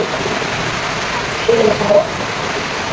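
Steady rain hisses continuously, with a few faint muffled voices or knocks rising briefly above it.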